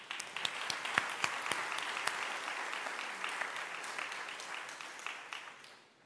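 A church congregation applauds during a Sunday morning service, a dense, steady wash of hand claps with a few sharp nearby claps standing out, fading toward the end.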